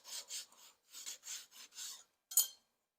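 Light scale and dirt are scraped off the outer part of a brake hub on a 1999 Toyota Tacoma, heard as short, faint, close rasping strokes in a quick rhythm that break off into one sharper final scrape.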